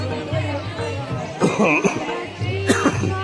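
Several sharp coughs burst out amid background chatter at a temple early in the morning, with a low engine hum underneath and voices murmuring around them.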